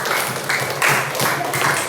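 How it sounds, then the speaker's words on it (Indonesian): Schoolchildren in a classroom clap for a classmate, a loud, slightly uneven burst of many small hands with a few sharper surges. "Tepuk tangan dong."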